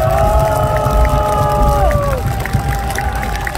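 Outdoor crowd at a political rally in front of Seoul city hall, a dense roar of cheering and clapping with shouting voices and whistle-like tones over it, loud and close, tapering slightly toward the end.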